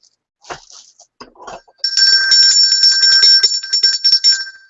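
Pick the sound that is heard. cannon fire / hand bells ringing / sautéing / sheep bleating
hand bells ringing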